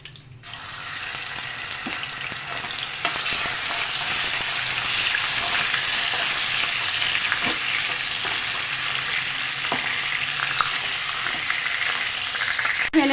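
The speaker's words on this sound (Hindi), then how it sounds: "अब मैं इसमें डालूँगी लहसुन अदरक का पेस्ट" Garlic ginger paste fries in hot oil with whole cumin and fenugreek seeds for a brinjal curry, giving a steady, close, crackling sizzle that runs continuously, with occasional stirring clicks and no talking.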